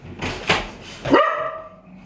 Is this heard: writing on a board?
no